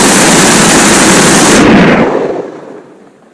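Heavy, continuous gunfire from a Spitfire's cannon and machine guns in a flight simulator game blasts loudly, then cuts off and fades away. No one speaks.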